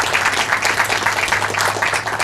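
Audience applause at an outdoor trail dedication ceremony, a steady wash of many hands clapping throughout, fairly close and loud with no talk over it.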